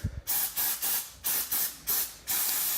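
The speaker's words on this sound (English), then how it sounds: "CRC brake clean. This Pro Series stuff is pretty nice. It does a really nice stream, kind of a bigger can." CRC Pro Series brake cleaner sprayed from a large can while rinsing brake dust off a Cadillac CTS-V, heard as a run of five or six loud, close hissing bursts, each about a quarter second long with short gaps between.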